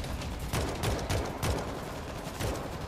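Rapid bursts of gunfire from the zombie shooter World War Z, repeated sharp cracks at a steady uneven rhythm over a dense, loud background of combat noise, with no voices.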